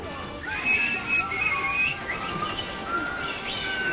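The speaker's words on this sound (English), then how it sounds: "we will be whistling the national anthem." Someone whistles the slow melody of the US national anthem in drawn-out tones, clear and fairly close, with faint background noise beneath.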